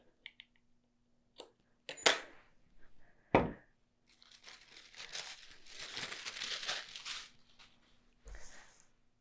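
Close scissors snip notches into fabric interfacing for a skirt in a sewing session, giving a few sharp separate cuts followed by a longer run of crinkly, papery rustling and handling noise; no one talks.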